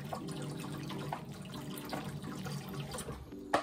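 Tap water runs steadily into a pot, a continuous faint stream filling it with about four cups of water for boiling pretzels in a home kitchen, with no talk over the sound.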